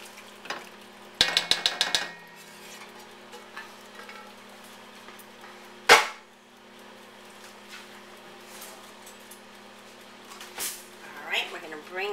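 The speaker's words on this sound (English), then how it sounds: "Now I take these mushrooms and add it to the gravy or sauce." Mushrooms are stirred into a gravy in a pan: intermittent scraping and stirring clatter with a sharp utensil knock, close by, under a continuous faint sizzle.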